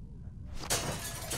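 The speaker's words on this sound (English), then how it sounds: "Use the bat to shatter that window so you can reach in, okay?" In The Walking Dead video game, a bat shatters a window: a sudden bright crash of breaking glass after a quiet lead-in, followed by tinkling shards and a second crunch.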